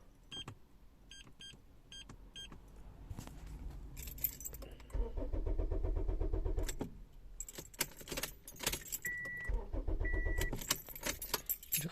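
Keys jangle in the ignition of a 2008 Honda Accord Executive, followed by the engine cranking and starting to a steady idle, with electronic beeps and dashboard chimes sounding inside the cabin; no one speaks.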